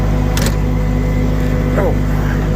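A truck engine is throttled up to about 1,000 RPM, giving a loud, steady, low rumbling idle that stays even from start to finish, with a brief click and a short voice over it.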